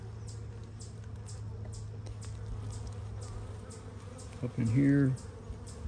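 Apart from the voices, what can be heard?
honeybees buzzing in a beehive during inspection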